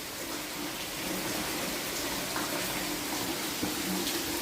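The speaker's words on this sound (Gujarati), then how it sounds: "ધીરે ધીરે ચાલુ છે વરસાદ ભાઈ." Light rain falls steadily outdoors on a rural Gujarat cattle farm, a soft, even patter with faint scattered drips throughout and no talking.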